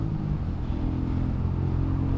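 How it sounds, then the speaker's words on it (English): Royal Enfield Meteor 350 single-cylinder engine with balancer shaft, giving a steady, smooth low burble at close range, heard alone without talk. "this engine is just so smooth. You get a lovely burble"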